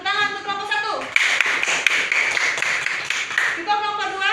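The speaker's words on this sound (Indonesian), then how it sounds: "Lalu Tepuk tangan untuk kelompok 1." A classroom of students claps for a student group during a microteaching lesson, a burst of brisk applause lasting a couple of seconds between a teacher's spoken lines.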